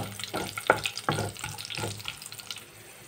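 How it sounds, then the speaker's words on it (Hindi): Whole spices, two dried red chillies, a green chilli and a pinch of asafoetida frying in hot oil for a pumpkin curry, soft crackling sizzle with intermittent stirring clicks, fairly faint and close. "2 लाल मिर्च डाल देंगे, 1 हरी मिर्च डाल देंगे, 2 पिंच हींग डाल देंगे, और अब इन खड़े मसालों को थोड़ा सा भून लेंगे हम।"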